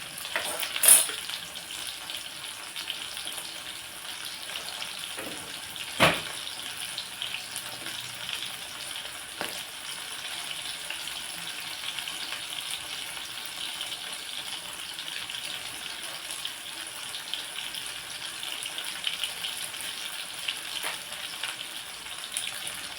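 Onions and two dried red chillies frying in plenty of oil for a ridge gourd chutney, a steady broadband sizzle throughout with a sharp utensil clatter early on and occasional soft stirring knocks.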